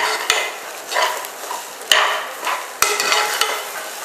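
Wheat rava roasts in a pan while being stirred, with soft scraping and rustling broken by a few sharp metallic knocks of the spoon against the pan.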